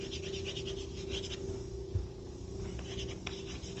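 Chalk or marker scratching across a classroom board while a series is written out in a mathematical physics lecture, a soft, steady scraping with small taps, faint and continuous over low room hum.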